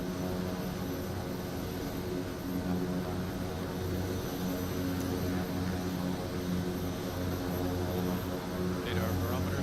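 A Kodiak single-engine propeller plane in Microsoft Flight Simulator 2024 roars at steady full power as it starts its takeoff roll on a Papua New Guinea runway, a loud continuous engine drone with faint radio-style talk beneath.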